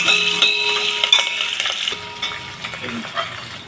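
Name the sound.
garlic and curry leaves tempering frying in oil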